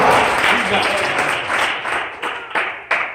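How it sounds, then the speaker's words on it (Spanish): A church congregation breaks into applause during a sermon, loud clapping that fades in waves, with a few sharper late bursts and voices mixed in. "De ese aplauso a Jesucristo en esta hora"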